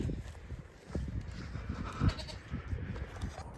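Pregnant goats on a farm bleat during vaccination, with several short bleats and shuffling handling noises at close range, one louder cry in the middle.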